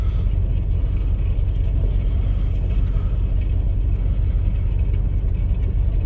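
A John Deere 5020 tractor's engine rumbles steadily and loudly throughout, close by, as the old machine is pull-started across ice, a continuous low drone with no clear catch or start.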